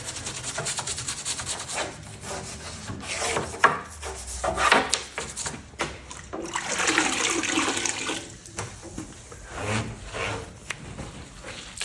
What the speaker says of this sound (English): So I'm just gonna take my scrubby brush and start